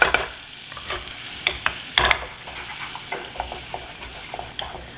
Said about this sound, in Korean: 중불에서 센불로 볶아줍니다. 그렇게 해서 갈색 내주시면 됩니다. 골고루 색깔 날 수 있도록 이렇게 휘저으면서 색깔을 내주세요.